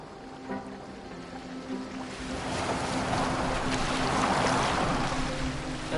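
A boat moving across water in a PS5 game, a steady wash of hull and water noise that swells louder midway, with faint low tones beneath and no talk.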